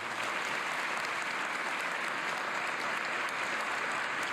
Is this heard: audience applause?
yes